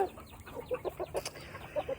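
A backyard chicken flock gives soft, repeated clucks in an uneven rhythm, close and fairly quiet, with a brief squawk in the middle.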